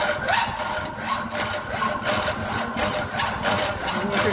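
A workpiece is hand-sawn at a workbench in a mechanical engineering fitting workshop, giving a steady run of rasping strokes at an even rhythm, close and moderately loud, with a constant background hum underneath.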